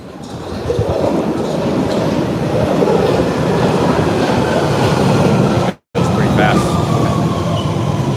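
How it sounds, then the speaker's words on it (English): A London train rumbles into the station, a loud, steady roar of wheels and carriages with faint clatter and a brief squeal near the end, and someone speaks over it. "Oh, here comes the train."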